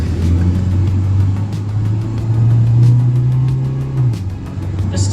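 Car with flip-up headlights, said to drive like a Civic, heard from inside while cruising, a steady low engine drone that climbs slightly in pitch, then eases off near the end, loud and continuous with no talking.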